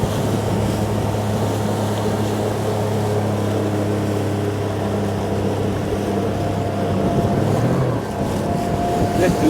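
A Boston Whaler 130 Super Sport outboard motorboat roars through a tight turn on open water, its engine drone steady and loud under wind buffeting, then shifting pitch as the turn ends.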